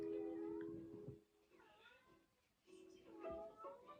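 Two faint, quiet meows come from a cat indoors, separated by a short pause, with low background noise and a little soft talk.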